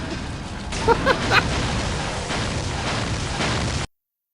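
An explosion in the game Star Trek: Voyager - Elite Force sounds as a few sharp bursts and booms over a steady game background, ending abruptly in silence.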